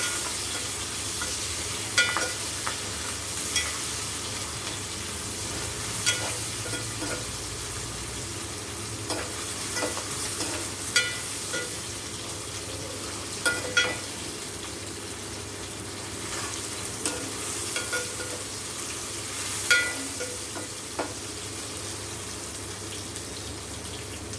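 Tomato pieces fry in a pan for fish curry, a long even sizzle with occasional light stirring taps and scrapes spaced through it, close and moderately quiet, no voices.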